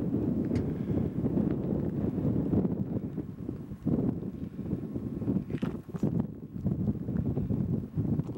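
Outdoor wind buffets the microphone in a heavy, continuous low rumble that surges and dips, with no voices heard.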